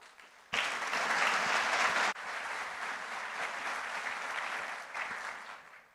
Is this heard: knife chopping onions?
no